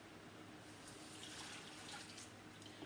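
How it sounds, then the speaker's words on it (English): Water runs from a tap into a cooking pot in a faint, steady splashing stream with light gurgles, quiet and continuous with no voices. "I might even add some water."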